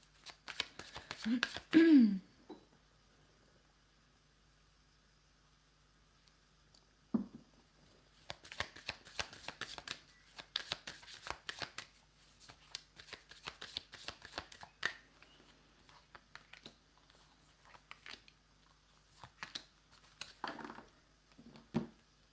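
Oracle deck cards being shuffled in several bursts of riffling and sliding, with short pauses between, close and fairly quiet, no talking.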